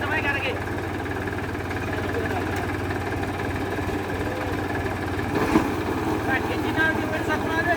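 A TAFE 45 DI Dynatrack 4WD agricultural tractor engine runs steadily nearby, a continuous low rumbling drone, while someone talks over it throughout.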